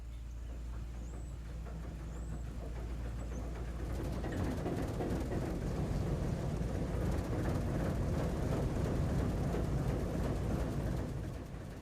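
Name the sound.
Alco HH1000 diesel locomotive engine starting up and running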